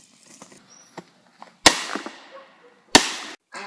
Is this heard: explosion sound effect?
yes